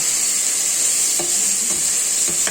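Small puti fish fry in a pan with a steady, close sizzle that runs throughout, broken by a few soft stirring scrapes and clinks near the end.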